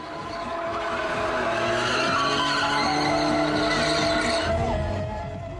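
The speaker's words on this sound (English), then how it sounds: "At the burnout area, GTI fans could put their cars and tires through a real workout" Volkswagen GTI cars doing burnouts at a car show's burnout area, tires squealing loudly and continuously with engines roaring underneath, the screech swelling and holding close for several seconds.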